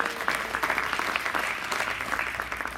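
Audience clapping at a school curriculum night as staff members are introduced, a dense, steady burst of applause from a room full of people.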